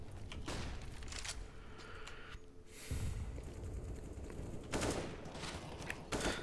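Rifle spray gunfire in a Counter-Strike match, with bursts of rapid shots coming and going at moderate distance. The level is quiet overall, and a few louder volleys stand out.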